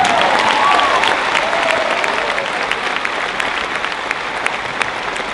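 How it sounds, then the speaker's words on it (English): Audience applause fills a high school graduation ceremony, a steady, dense wash of clapping that holds evenly throughout and tapers slightly near the end. "Go ahead and clap for that."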